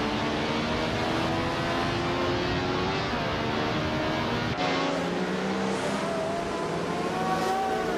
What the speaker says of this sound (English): Maya is driving a Group 6 Ferrari 312 at BB, starting from 3rd position.